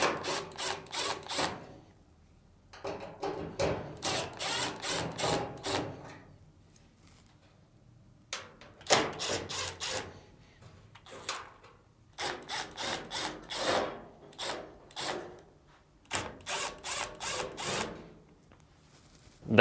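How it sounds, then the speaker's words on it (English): Screws are driven out of the upper frame plate of a Samsung appliance with a power driver, in repeated short whirring bursts separated by pauses, close and fairly quiet, with no talking. "Next, remove the screws on the upper frame plate."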